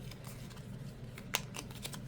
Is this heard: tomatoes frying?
no